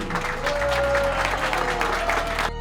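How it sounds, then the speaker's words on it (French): A short burst of audience clapping at a combat sports event, steady and moderately loud, with a sustained tone and background hum underneath, cutting off abruptly. "Un applaudissement pour Kelvin."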